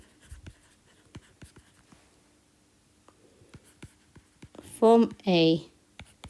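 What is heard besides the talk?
writing out a maths statement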